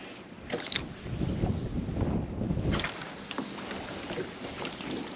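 Northeast wind blowing over Liepāja lake, gusting and buffeting the microphone in rough surges, with faint knocks and creaks from a boat.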